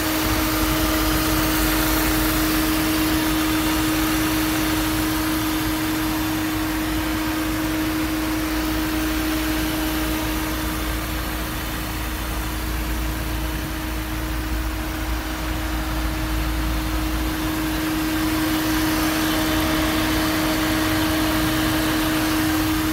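A 2003 Fiat with a 1.6 engine idles with the air conditioning running, giving a steady, even hum with a constant tonal whine and fan-like hiss throughout, and no talk.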